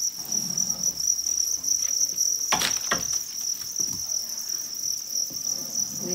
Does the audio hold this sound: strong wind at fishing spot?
no